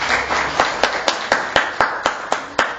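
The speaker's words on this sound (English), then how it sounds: "let's give her a nice round of applause" A room of community residents applauds an elderly woman, steady crowd clapping overlaid by regular, sharp, close individual hand claps at a quick even rhythm lasting under three seconds.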